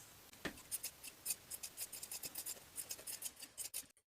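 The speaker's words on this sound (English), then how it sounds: "Trim the seams and clip the top corners." Scissors trim the seams and clip the top corners of a sewn blouse collar, giving close, dense scratchy cuts in quick bursts with no talking.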